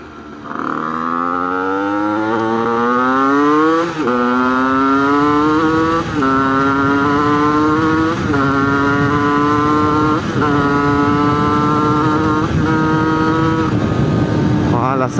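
Cold 70cc moped engine revving up through a series of rising accelerations, each pull climbing in pitch before a brief drop as it shifts, loud and close, with a buzzy two-stroke drone.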